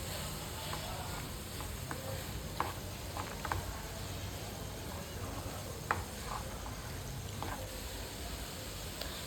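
Broad beans, soybeans and other vegetables are stirred in a frying pan for a vegetable soya biryani, giving a faint, steady sizzle broken by occasional soft scraping clicks.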